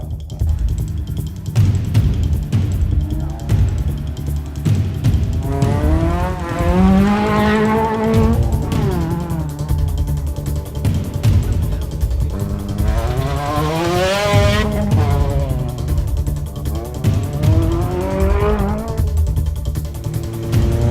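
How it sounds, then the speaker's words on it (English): Rally cars in the MRF Rally the North race hard on a loose track, engines screaming through rising and falling revs as several passes sweep by, tires squealing and skidding loudly throughout. "The cars do some astonishing tricks on the track and off of it, quite literally"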